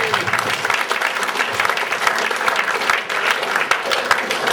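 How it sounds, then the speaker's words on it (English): An audience at a stage hypnotist show in a football club bursts into sustained, dense applause, loud and continuous throughout with faint crowd murmur mixed in. "give him a round of applause"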